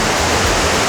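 A river rushes through a standing wave in Germany as a loud, continuous broadband roar of churning water, close and unbroken across the short moment, with no voices.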